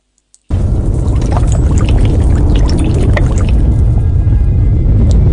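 A child plunges into water in an Indian action movie scene: a sudden loud, splashing rush of water starts after a brief quiet moment and stays churning and dense to the end.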